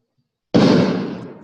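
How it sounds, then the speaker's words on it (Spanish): After a moment of silence, one sharp firecracker bang bursts out fairly close, then a crackling tail fades over about a second. "creo que nos están reventando cohetes a nosotros"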